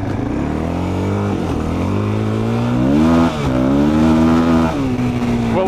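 A 400cc dirt bike engine revs hard and steady at close range, pitch climbing and dipping as the rear wheel spins in loose dirt, a continuous loud drone with no talking.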